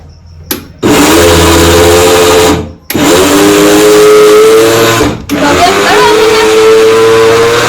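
A mixer grinder whirs loudly in three bursts, each starting and stopping abruptly, with a high motor whine over a rumbling base.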